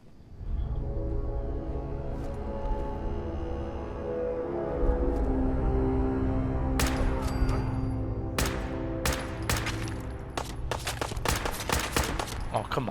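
Bursts of automatic gunfire in a Fallout 4 fight, starting low and rumbling, then sharp repeated cracks in rapid clusters through the second half, loud and close, with someone speaking briefly.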